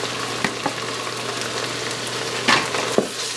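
Poblano peppers sizzle steadily in a hot Instant Pot, a constant frying hiss with a few crackles and clicks of food and utensil against the pot, under a low steady hum.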